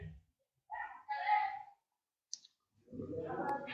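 A single computer mouse click on a Start Capture button lands between stretches of someone speaking, sharp and brief in a quiet room.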